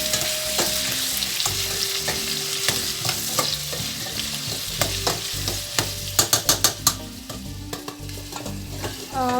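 Pumpkin sizzles and crackles steadily in a hot frying pan while a utensil stirs and scrapes, with a burst of quick clinks near the end.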